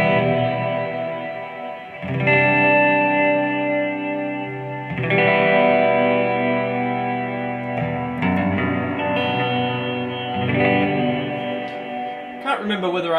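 A Crystal Cavern reverb patch on a Strymon Big Sky pedal washes over sustained guitar chords with bright, shimmering top end. Chord changes ring out into long, airy tails.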